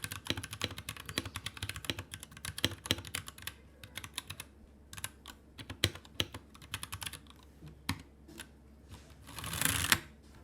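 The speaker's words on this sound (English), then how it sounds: "And ever since going to a nice, actually more expensive mechanical keyboard" Typing on a mechanical keyboard with brown switches, fairly quiet, rapid irregular key clacks close by, with a brief denser burst near the end.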